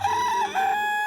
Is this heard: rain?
no